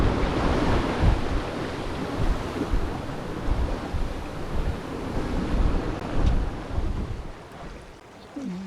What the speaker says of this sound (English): The wind's a bit gusty.